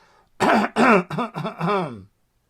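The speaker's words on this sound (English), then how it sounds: "clear my throat" A person clears their throat loudly and up close in a few gruff, voiced bursts over about two seconds, then silence.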